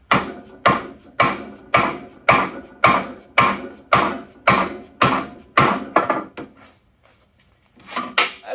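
Polyurethane bushings are hammered into a vehicle control arm with an old bearing race as a driver, giving a run of about a dozen sharp, evenly spaced metallic strikes, then a brief pause and one more blow.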